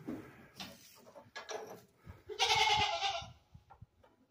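A baby goat bleats in a few short, close cries, the loudest a sustained, wavering bleat near the middle, with quiet rustling between calls.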